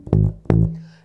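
Electric bass plucks a short funk riff phrase of two punchy notes, the second left ringing, close and alone.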